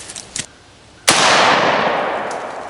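AK rifle firing a 5.45x39 round, a few faint handling clicks followed by one sharp, loud, close gunshot that rings out in a long fading echo.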